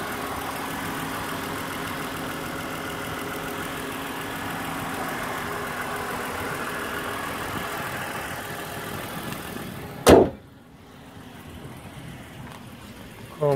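A V6 engine on a 2015 Toyota Avalon XLE idles in a steady, even low hum throughout, broken near the end by a single sharp knock or click, after which the rumble continues more quietly.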